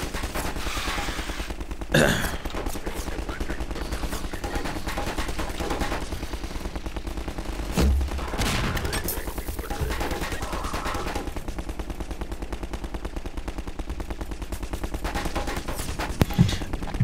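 Sustained automatic gunfire in a video game, loud and nearly continuous for the whole stretch, with a few sharper bursts and bangs standing out, aimed at the player character.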